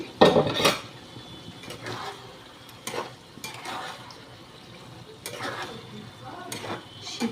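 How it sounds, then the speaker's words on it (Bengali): Spinach is stirred in a kadai over a gas stove running on a weak flame. Irregular metallic clanks and scrapes of the utensil against the pan come in short bursts over a low background hiss, with no speech. "ততক্ষণে আমি এই পালং শাকটা একটু নাড়া দিই"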